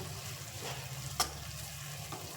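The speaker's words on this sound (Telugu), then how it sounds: "ఈ క్యారెట్ ముక్కల్ని దీంట్లో వేసి ఫ్రై చేసేసి" Grated carrot frying in ghee for carrot halwa, a steady low sizzle close by with a brief sharper stir scrape midway, no talking.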